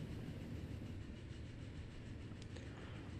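A game train in Transport Fever rumbles along steadily, a continuous low rolling roar with faint clatter, unbroken and close throughout.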